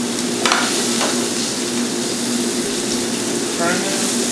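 Shrimp frying in a hot pan in a New Orleans-style kitchen, giving a steady, close sizzle throughout with a couple of brief stirring clatters and light handling noise.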